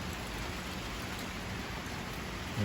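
Rain falls lightly and steadily, a dense even patter with no voices, continuing unbroken throughout.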